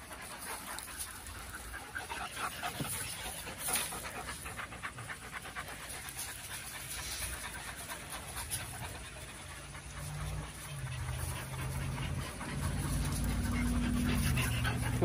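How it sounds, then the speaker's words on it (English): A pet dog pants steadily at close range on a Saturday morning, a soft continuous breathy rhythm that grows louder and heavier toward the end, with no talking. "Here's the pup."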